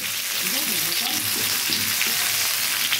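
Jujube (kul) fruit fries steadily in a pan for pickle, a continuous close hiss of hot oil with faint scraping and stirring running through the whole stretch, no voices.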